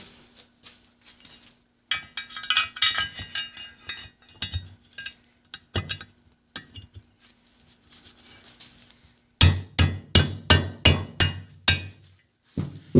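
A special tool is hammered to drive out the shift rod bushing from a Johnson 9.5 HP outboard lower unit, scattered metallic taps and scrapes first, then a rapid series of about seven sharp, loud strikes close by.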